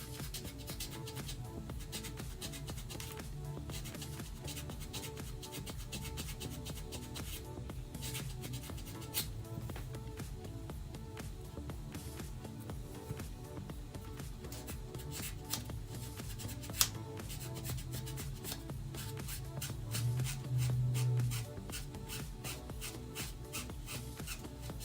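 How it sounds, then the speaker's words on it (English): Steady, continuous scratchy rubbing of a sanding toothbrush on a cosplay prop, going on without pause at low, even volume. "This is like, it's like a toothbrush, sanding toothbrush."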